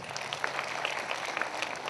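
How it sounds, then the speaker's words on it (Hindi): Audience applause at a Christian prayer meeting on its second day in Ghaghra: a steady, dense crackle of many hands clapping, fairly faint and continuous for the whole stretch with no voices. "जोरदार ताली बजाइए"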